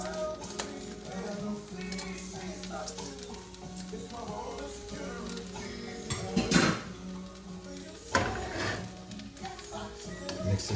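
Thai basil fried rice with chicken being stir-fried in a pan, with repeated metal scrapes and clanks of the utensil against the pan over a soft sizzle, close, and two louder clatters later on.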